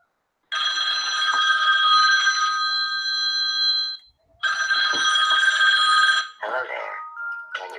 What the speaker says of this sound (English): And that's apparently a phone call of Santa